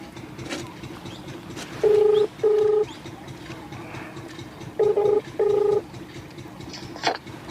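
A phone keypad beeps out tones in two pairs, each a short steady double beep, clear and loud over a quiet hum.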